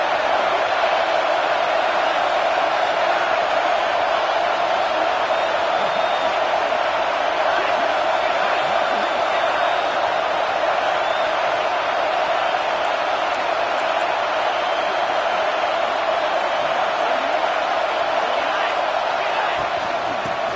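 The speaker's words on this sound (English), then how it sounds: "The crowd really making some noise now, trying to help out this defense to get this stop near the goal line" Stadium crowd in NCAA 26, a college football video game, roaring as the defense tries for a goal-line stop; a dense, loud, unbroken wall of crowd noise with a commentator talking over it.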